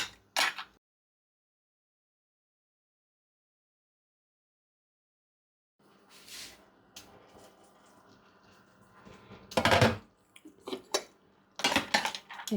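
A few metallic clinks and scrapes from stirring seafood in a pot of tomato sauce, then the lid set on, after a long silence; faint and close, with brief clattering bursts near the end.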